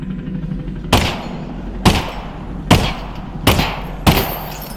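Pistol shots in the video game Half-Life: Alyx, five sharp loud bangs spaced about a second apart, each cutting off quickly over a low background hum.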